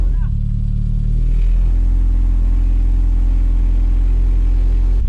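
Volkswagen Mk1 City Golf fitted with a 2.2-litre ABF engine and individual throttle bodies, idling with a deep, steady rumble close by before a short blip of the throttle raises the engine note.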